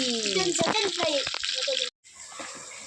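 Mackerel frying in oil village-style, a steady broadband sizzle that runs loud and close for most of the moment, cut off abruptly near the end, then softer sizzling returns; a voice talks over it with some clatter.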